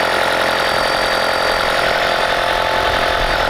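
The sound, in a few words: Toyota Prius engine running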